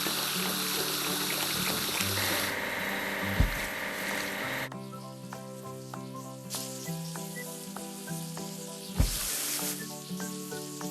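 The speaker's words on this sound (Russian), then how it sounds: "Давай помоем вагон-платформу." Water sprayed to wash a flatcar wagon in a children's trains video game, a hissing, sizzling spray layered over upbeat game music, with splashy bursts along the way.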